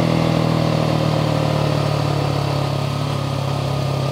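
Husqvarna 701 motorcycle engine under way through curves, a steady droning hum with low buzzing vibration and rushing noise, holding an even loud level without clear revving changes.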